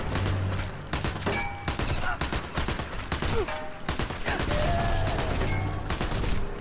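Dense STG-44 automatic gunfire in the video game Sniper Elite 4, loud and continuous bursts of rapid shots with explosive cracks layered over game ambience throughout.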